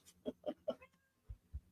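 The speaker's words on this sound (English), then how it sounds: "don't meow at me." A cat meows three times in quick succession close by, followed by two soft low thumps, with no one talking over it.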